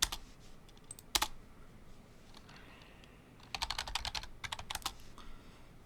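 Clicky computer keyboard typing a Linux terminal command, quiet keystrokes in two quick bursts with a brief pause between, close up and without talking.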